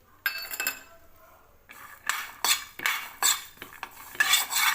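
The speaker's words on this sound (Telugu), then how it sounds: "దోసకాయ పచ్చడి కోసం 2 స్పూన్ల పల్లీలు స్టవ్లో ఫ్లేమ్లో పెట్టి దోరగా వేయించుకోవాలి." Dry peanuts and sesame seeds roasting in a pan on the stove, heard as repeated scraping and clinking strokes of a spoon against the metal pan, in uneven bursts with short pauses and no talk.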